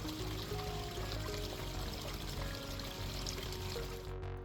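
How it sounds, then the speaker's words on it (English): Hot spring water in Hot Springs, Arkansas pours out in a steady, dense rush, close and continuous with no voices, fading slightly at the very end. "The water that pours out of these hot springs is believed to have several health"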